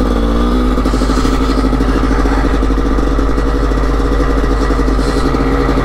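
A GasGas 300 two-stroke motorcycle engine struggles to idle, giving a loud, close, continuous buzzing rattle with an uneven pulsing beat.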